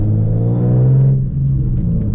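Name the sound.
Nissan 370Z manual car accelerating through gears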